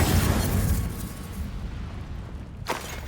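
A fire spell blasts out in Hogwarts Legacy, a loud roaring burst that fades into a rumbling tail with a brief crack near the end, heard close with no talk.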